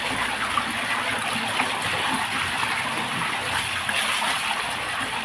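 Underground spring water pours out freely in a steady, close, continuous rushing gush with no breaks, alone without talk.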